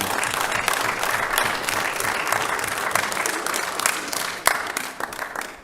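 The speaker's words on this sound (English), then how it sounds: "We discourage applause with the number of speakers that we have." Audience applause fills a county board of commissioners' regular meeting, a steady, dense clapping from a room of people lasting several seconds at a consistent loudness.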